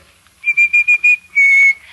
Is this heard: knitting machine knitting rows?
no